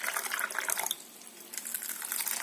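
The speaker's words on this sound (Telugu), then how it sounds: "ఇవన్నీ ఇలా వాటర్ పోసేసుకొని" Water splashes and trickles as it is poured over soaking walnuts and almonds, a close, steady stream that briefly eases off before resuming.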